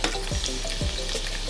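Garlic sizzling and frying in hot oil in a pan, a steady close crackle with a few stirring scrapes, no voices.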